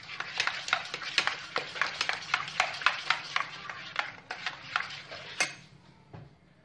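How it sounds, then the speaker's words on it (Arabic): A dessert mixture with pastry cream is stirred briskly in a bowl, giving a quick run of close clinking, scraping strokes that slow and fade near the end. "وغادي نخلط هادشي مزيان نحركوه مزيان"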